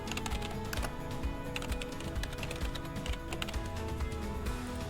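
Email address typed on a computer keyboard: rapid, continuous clatter of keystrokes, close and alone, with no talk.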